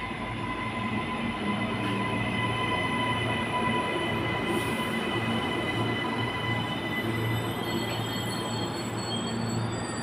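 A Queensland Rail NGR electric train pulls into South Brisbane station, a loud continuous rumble of wheels on rails with steady squealing and humming tones throughout, no voices.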